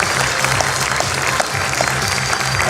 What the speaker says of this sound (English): let's give this moment a reverberating round of applause